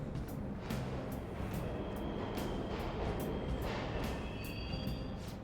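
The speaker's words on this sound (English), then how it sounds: "The trains are totally running." Subway trains run in Persona 5 Royal, a steady low rumble with rhythmic clacks and thumps of wheels on rail joints, plus faint higher squeals, at moderate distance and heard alone.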